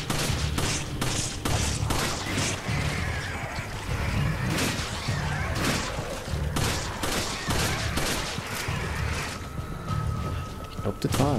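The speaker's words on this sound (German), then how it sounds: "Schön nochmal zwei Schüsse" Gunfire rattles in the Resident Evil 5 video game as a series of sharp shots and bursts mixed with game effects, loud and repeated across the stretch, with players talking over the action.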